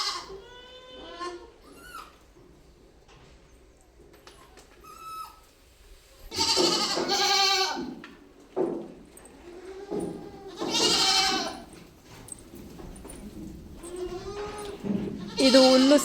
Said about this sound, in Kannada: ಹಸು ಫಾರಮಲ್ಲಿ ಇದ್ದಿದ್ದೆ ಮೇಕೆ ಫಾರಮ್ ಮಾಡಿಬಿಟ್ಟು ಮೇಕೆ ಬಿಟ್ಟಿದ್ದೀವಿ ಈಗ